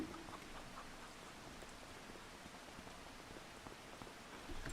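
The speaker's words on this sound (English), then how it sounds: "Why does the sound of the rain keep coming and going?" Steady, faint rain patters in the Farming Simulator 25 farming game, a soft continuous hiss of drops falling on surfaces with no talking.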